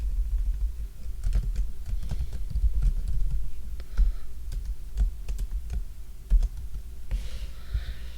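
Keystrokes on a computer keyboard while entering a PowerShell command on a Mac, a steady run of close, light clicks with irregular rhythm over a low hum, with a slightly louder tap near the end.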